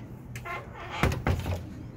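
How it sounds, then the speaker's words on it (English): A slam door in a haunted house attraction bangs shut twice in quick succession, the sharp wooden knocks fairly close and loud over a low background hum. "A slam door over here that's come out really cool."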